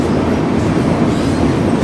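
A train running on the rails, a loud continuous low rumble and roar heard from on board, steady throughout without any voices.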